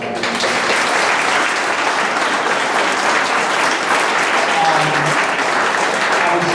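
A high school cross country awards night audience gives a steady, full round of applause, dense even clapping from a room of people that stays level from start to finish.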